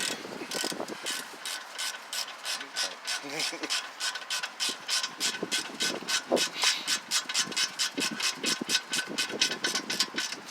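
A ratchet wrench tightening brake bolts on a 1999 Lincoln Continental, fast even clicking strokes repeating steadily close up, with brief pauses between runs.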